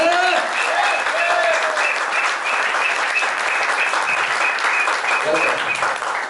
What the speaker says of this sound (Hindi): ताली बजा लो यार।